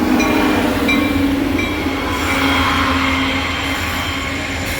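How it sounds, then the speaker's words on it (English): A CSX coal train hauled by an SD70 locomotive rumbles past close by and loud, a continuous roar with faint metallic wheel squeals and tones over it and no talk. "CSS coal train."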